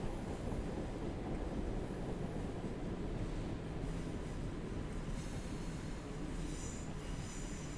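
Class 150 diesel multiple unit on a Bristol to Exeter run, pulling into a station; steady loud rumble and rolling wheel noise throughout, with faint squealing from the wheels, no talk.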